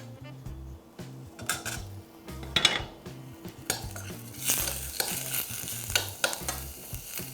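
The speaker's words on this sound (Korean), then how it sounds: "무 준비하시고 참기름으로 좀 볶아서 무랑 같이 볶아주셔도 됩니다." Radish stir-frying in sesame oil in a pot, with a utensil scraping and clinking against the metal in repeated stirring strokes over a soft sizzle, close by and without speech.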